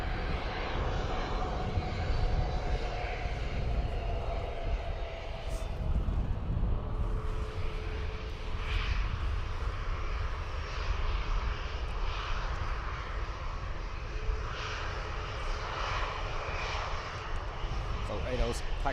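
Ryanair jet airliner departing Dublin Airport, a steady broadband engine roar holding at a constant level throughout, with a person speaking over it.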